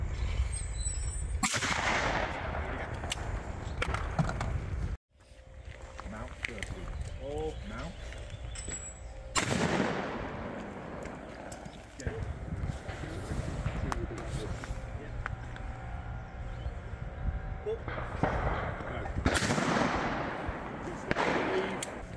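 Shotgun blasts ring out at clay targets on an outdoor shooting ground, several loud sharp reports spaced seconds apart, with an instructor talking between shots.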